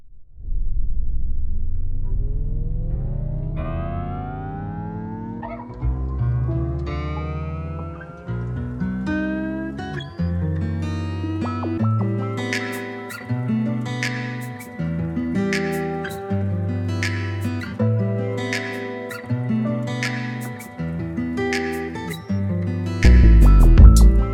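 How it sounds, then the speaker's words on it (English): An R&B beat produced from scratch, beginning with a low rising tone that settles into a steady groove of bass notes and regular percussive hits, building in layers and playing on its own without talk. "This is a split R&B beat that we made."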